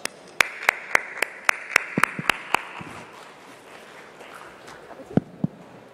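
A few people clap briskly and evenly at a tech conference event in India, then the clapping thins out into scattered claps against a quiet room.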